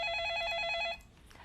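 An electronic phone ring warbles loudly for just under a second to signal an incoming viewer call on a Korean stock-market TV program, then stops, leaving quiet studio room tone.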